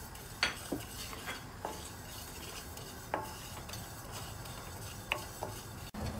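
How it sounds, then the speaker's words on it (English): Sesame seeds roast in a pan over low heat, a faint steady hiss with a few soft scattered clicks and taps spread through, close by and with no voices. "roast the sesame seed until you see a golden brown or you hear popping"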